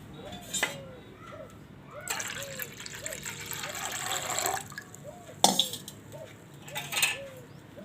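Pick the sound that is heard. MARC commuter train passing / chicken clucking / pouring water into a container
pouring water into a container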